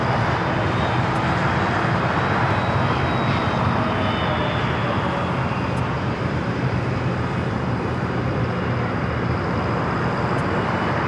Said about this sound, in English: Japan Airlines flight coming in from Tokyo Narita, short final for 24 right.